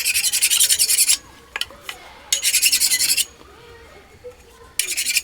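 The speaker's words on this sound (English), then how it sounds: "Back end of a saw, little wood saw, make an horrible noise that sets your teeth on edge." Back edge of a small wood saw scraping insulation off scrap wire, giving harsh, grating rasps in three loud bursts with quiet gaps between, close up and alone.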